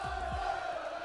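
Crowd at a Fortnite competition broadcast cheers in a steady, distant roar of massed voices, a continuous wash of whoops and shouting without clear breaks.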